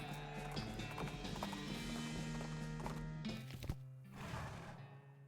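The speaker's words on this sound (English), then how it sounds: "But these are cart horses." Cart horses walking in a video game, their hooves clip-clopping in a steady uneven rhythm along with a snort or whinny, faint under a layered game soundtrack.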